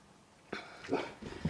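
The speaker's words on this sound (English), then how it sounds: "My dogs are barking at that bird." Dogs bark at a bird outdoors near a greenhouse, a few faint, distant, irregular barks spread over a second and a half.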